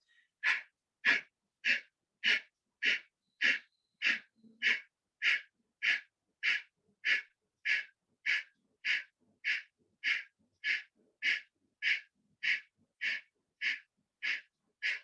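Kapalbhati yoga breathing: a person makes rapid, forceful nasal exhalations, about twenty-three sharp puffs in an even rhythm roughly every half second, close and clear with near silence between them.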